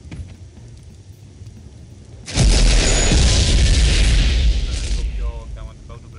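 Weapon blast in an Unreal Engine 4 first-person shooter game, a loud sudden boom followed by a sustained roaring rumble for about three seconds that then fades.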